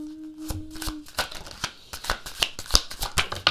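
A deck of tarot cards is shuffled by hand at close range, making rapid papery riffles and soft slaps in a quick, uneven rhythm. A brief low hum is heard at the start.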